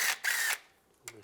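Power drill loosening 10mm timing chain guide bolts on a 2007-2013 Chevy Silverado engine: two short close whirring bursts, then a pause and a brief softer sound at the end.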